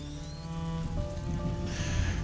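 Rain falling in A Plague Tale: Innocence, a steady hiss over low rumbling and tonal game ambience, at moderate level.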